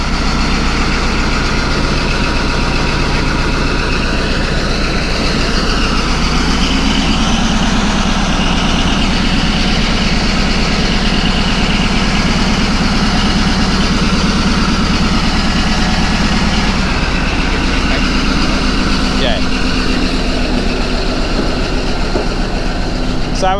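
Caterpillar D11 bulldozer idling at a water pipe laying job, a loud, steady low diesel rumble with a constant throbbing drone that runs unbroken, a brief clank near the end.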